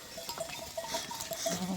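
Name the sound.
sheep bleating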